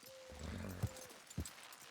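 Horses strain to pull down an old house in Red Dead Redemption 2, two heavy hoof thumps and a quiet low rumble sounding through soft game ambience.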